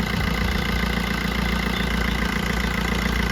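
A car engine idles smoothly at close range after an oil change and timing adjustment, a steady low rumble with an even, unbroken rhythm and no vibration.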